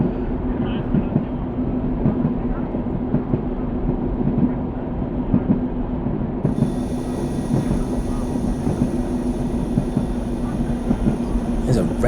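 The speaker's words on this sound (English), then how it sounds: "I'm just going to let the train coast" A diesel railcar in a train simulator game coasts along the track with a steady rumbling roll and wheel noise. A high-pitched tone joins partway through.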